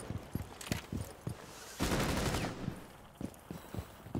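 Gunfire in the video game Rainbow Six Siege, aimed at the ground: sharp, evenly spaced shots crack out at close range, broken by a dense, loud burst of sustained fire before single shots resume.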